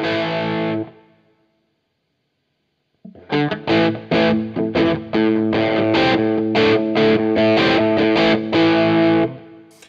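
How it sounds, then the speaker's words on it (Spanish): Electric guitar played through the distortion channel of a DryBell Engine pedal: a loud held distorted chord that fades, a gap of silence, then a run of rhythmic chugging distorted strums that stops abruptly. "Vamos a activar la distorsión."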